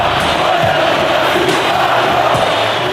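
Stadium crowd at Mineirão cheering and applauding goalkeeper Fábio after a Cruzeiro–Fluminense match, a loud, continuous roar of massed voices and whistles that holds steady throughout.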